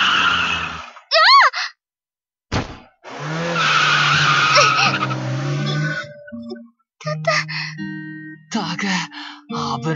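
A car's tires skid and screech in an anime scene, a loud sharp squeal in short bursts between gasps and speaking voices.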